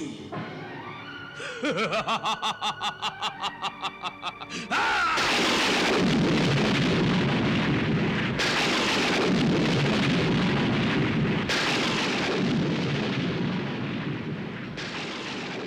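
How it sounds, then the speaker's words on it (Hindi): Rumbling thunder of an approaching storm in a dramatic mythological palace setting, a loud sustained roar with repeated heavy bursts after a rhythmic pulsing opening, no talk. "लगता है तूफान आने वाला है।"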